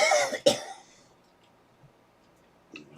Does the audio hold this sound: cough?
yes